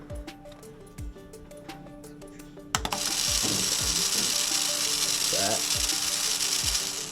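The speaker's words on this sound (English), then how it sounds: "When the light gets disrupted from this ball, it detects it and it goes to this motor, and this motor runs, indicating that it's a goal." A small motor on a VEX goal whirs into a steady high buzz as it spins a little flag, over a repeating mechanical clicking that runs throughout the clip.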